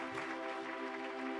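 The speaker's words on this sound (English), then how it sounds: "Let's have a round of applause for the technical team who made that happen." An audience at a live talk and Ganga Aarti event in London keeps up steady, dense applause throughout, with a low electrical hum underneath.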